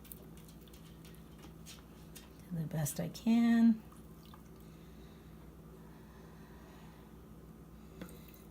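Korean-style steamed egg mixture poured and divided into serving dishes: a short run of liquid splashing and dripping lasting about a second, set between stretches of someone talking.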